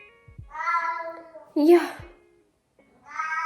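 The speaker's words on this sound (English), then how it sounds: "My cat is telling us." Pet cat meowing indoors at home, two drawn-out harmonic meows with a sharper cry between them, close and clear, alternating with a brief spoken reply from a person.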